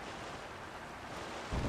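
In The Legend of Zelda: Tears of the Kingdom, a fan-powered boat sails across a river, heard as a steady, even rush of wind and water that swells slightly at the end, with no talking.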